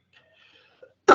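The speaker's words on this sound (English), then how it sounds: "Sorry about the cough." A single loud, close cough bursts out at the very end after near-silence, with faint murmurs before it, heard during an agricultural sector conference presentation.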